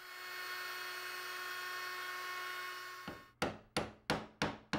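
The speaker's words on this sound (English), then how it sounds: "using our plunge router and an 1/8 inch radius bit, we round over the inside and outside edges of our frame." A plunge router with a 1/8-inch radius round-over bit shaping the edges of a wooden frame gives a steady high-pitched whine that cuts off, followed by a few sharp, evenly spaced knocks close by.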